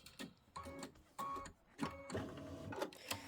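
A computerized embroidery machine stitches out a quilt block, giving a quiet, busy mechanical whirring with rapid clicking bursts and short pauses between stitch runs, heard alone with no talk.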